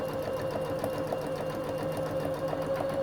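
Sewing machine running a continuous stitch down an overlap zip seam, a steady close mechanical hum with a fast regular needle pulse and no talking.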